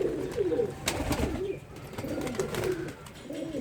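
Pigeons kept by a fancier coo in soft, rolling phrases. Several birds call close by, one after another, with no talk over them.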